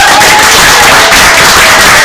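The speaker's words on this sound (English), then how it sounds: "maybe we'll give them another round of applause" Audience at a city council meeting applauding, a dense steady wash of clapping that stays loud and close for the whole moment without pause.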